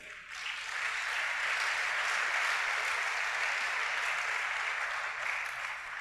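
A church congregation applauds during a worship service, giving a steady, dense wash of clapping that swells in and holds for several seconds, filling the room.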